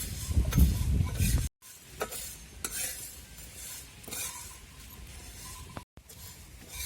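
Dried cowpeas dry-roasting in a pan, stirred with a utensil that scrapes and rattles the beans against the metal in loose, busy bursts, close and moderately loud with brief pauses in between.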